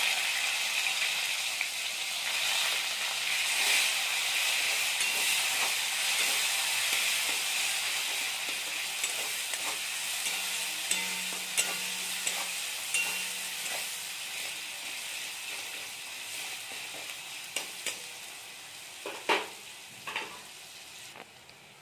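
Chopped onions sizzle steadily in hot oil with dried fish, with a constant broad hiss and a few sharp clicks and scrapes of stirring near the end.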